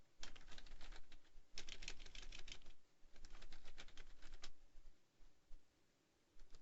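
Bursts of fast keyboard typing during game-mode scripting, with dense clicking runs separated by brief pauses, close and fairly quiet with no voice.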